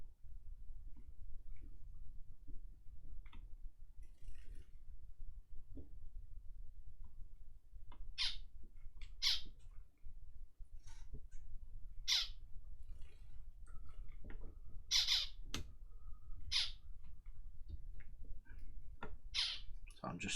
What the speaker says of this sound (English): Silly birds.